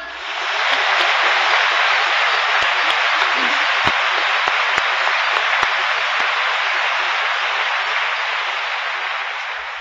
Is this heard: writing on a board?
no